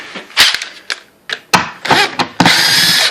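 A power drill backs screws out of a kitchen cabinet during a toe-kick heater installation. Several short, loud bursts come close up and separated by pauses, and the last one runs longer.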